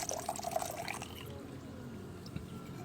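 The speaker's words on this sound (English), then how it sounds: "when water drains here, drains but very much delayed." Water drains steadily from a basin during a Coriolis effect demonstration on the equator, a soft continuous trickling and pouring wash, fairly faint and uninterrupted across a few seconds.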